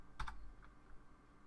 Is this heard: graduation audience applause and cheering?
no